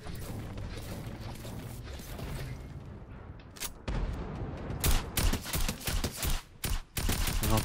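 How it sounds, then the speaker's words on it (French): Gunfire in a John Wick mode video game crackles through the second half as rapid bursts and repeated loud shots, preceded by a quieter stretch of mechanical clatter and rumble, with no talking. "J'entends plein de tirs, mais je sais pas."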